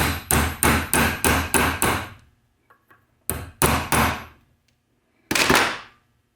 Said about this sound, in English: I just use a 10mm socket and tap the funnel in place.